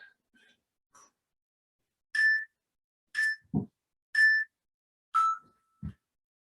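A series of four evenly spaced electronic workout timer beeps during a bodyweight push-up session, clear and loud against near silence, with a couple of soft low thumps in between.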